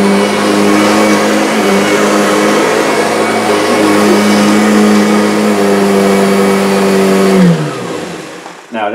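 A Kirby vacuum cleaner runs loud and close with a steady motor drone and hum, then winds down abruptly near the end as the motor pitch drops and fades.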